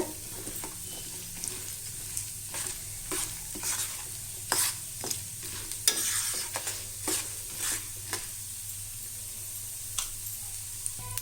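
Ingredients fry over low heat in a pan for lemon rice, a soft continuous sizzle punctuated by irregular clicks and scrapes of a stirring spoon, close and without talk.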